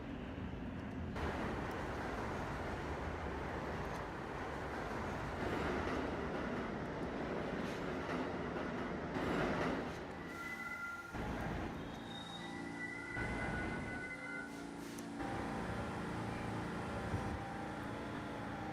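A New York subway B local train at the 19th Street station rumbles steadily, with wheel and brake squeals rising near the middle and a continuous metallic roar throughout.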